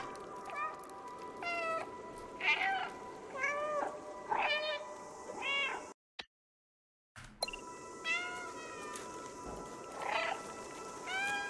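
Cat meowing in the video game Stray: a series of short, repeated meows in a loose rhythm, broken by a brief moment of silence midway, then resuming over a quiet ambient background.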